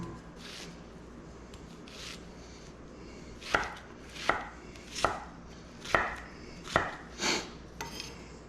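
Onions being coarsely chopped with a knife on a board for Cuban oxtail stew: about eight crisp, evenly spaced chops in the second half, after softer knife handling at the start.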